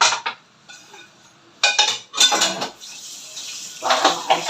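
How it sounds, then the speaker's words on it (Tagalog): Plates and cutlery clink and clatter as dishes are washed by hand at a kitchen sink, in bursts of close, sharp knocks and scrapes with a trickle of water between them and no talking. "Hugas muna ng pinggan."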